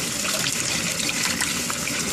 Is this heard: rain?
no